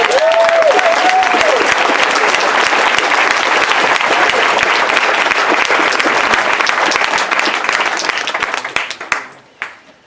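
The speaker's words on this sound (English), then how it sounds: "Let's give them all another round of applause" A graduation ceremony audience at a school claps loudly and densely for about nine seconds, with a brief whistle near the start, before the applause thins to scattered claps and fades out.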